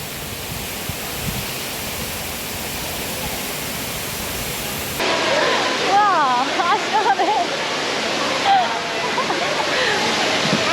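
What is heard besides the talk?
waterfall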